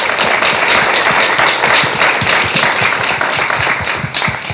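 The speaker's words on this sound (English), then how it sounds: "Round of applause for Ayrton." A room of listeners applauds after a talk at an event about fixing the planet, brisk irregular clapping up close that fades slightly toward the end.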